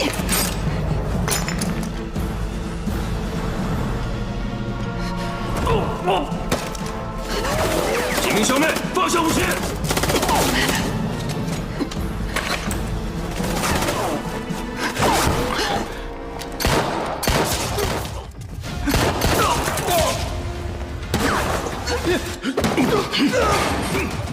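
A film gunfight inside a gang hideout, with rapid bursts of gunshots, clattering impacts and glassy clinks layered over dramatic music and dialogue throughout.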